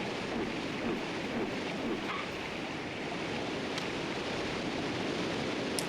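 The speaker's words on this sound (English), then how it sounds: "At least the waterfall sound effects are chill." Waterfall ambience from the video game Tomba! 2 pours on as a steady, even roar of rushing water, with a couple of faint brief clicks over the continuous wash.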